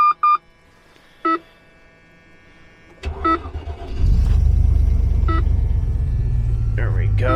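A Range Rover P38 is started in the snow: a few short electronic chimes sound in the quiet, then the starter cranks briefly and the engine catches into a steady, close idle rumble.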